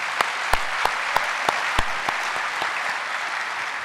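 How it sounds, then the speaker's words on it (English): Applause at an International Moose Convention session, a dense wash of clapping from a hall audience with several sharp, distinct claps popping out near the front. "Give yourselves a big round of applause for that."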